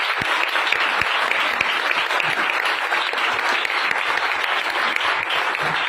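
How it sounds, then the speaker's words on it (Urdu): A church congregation at a Christian worship meeting applauding loudly, a dense, steady wall of clapping from many hands that holds at full strength throughout with no talking over it. "زوردار تالیاں بجائیں"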